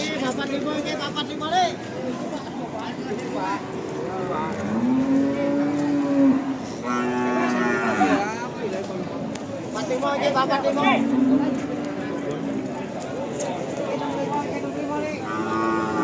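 Cows moo repeatedly, with long, drawn-out lowing calls rising over a busy crowd of chattering voices at the Jatirogo cattle market.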